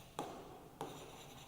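A teacher writes answer options for a Class 2 measurement maths lesson, two quick faint scratchy strokes of writing about half a second apart, close but very quiet, with no talk.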